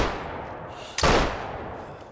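A single sharp rifle shot at a deer in theHunter Call of the Wild cracks out over a steady outdoor ambience and rings off in a decaying tail.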